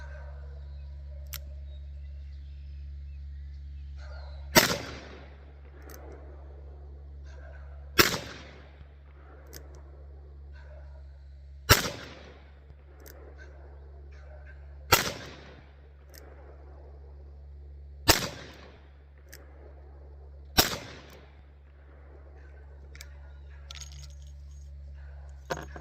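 A handgun fires six rounds of Norma practice ammunition at an outdoor range, sharp cracks spaced a few seconds apart, each trailing off into a short echo, with a low steady hum underneath.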